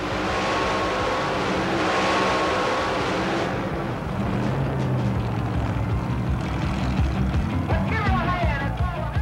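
A 1990 Chevy S10 mud racing truck with a 453 cubic inch blown Rodeck engine roars loudly and continuously, the engine note shifting as it races, with someone narrating over it.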